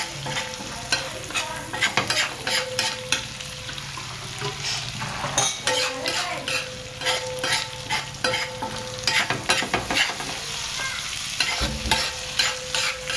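Goat brain fries in a pan with a continuous sizzle, while a utensil stirs and scrapes against the metal in irregular, repeated clatters, close and fairly quiet.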